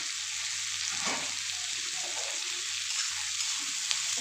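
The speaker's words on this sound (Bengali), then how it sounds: "কাঁকড়গুলো এই পেঁয়াজের সঙ্গে একটু ভাজা ভাজা করে নেবো" Young spiny gourd strips frying with onions in a pan, giving a steady close sizzle with a faint stir near the middle and no speech.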